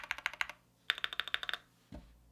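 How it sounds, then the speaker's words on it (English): Close, crisp keystrokes on a CHOSFOX CF81 custom mechanical keyboard kit come in two quick bursts of clacky taps, followed by a single deeper thock, with no talking. "I'm gonna give you a close typing sound test."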